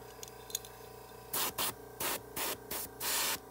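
Short bursts of an airbrush-style spray hiss while weathering a Bachmann On30 side dump car, six quick passes in an irregular rhythm, close and fairly quiet, with faint clicks before.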